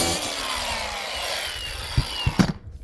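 Plywood being cut to fit as a patch during a tiny-home trailer rebuild, a steady rasping saw stroke running close and continuous before a few short knocks and a quick stop.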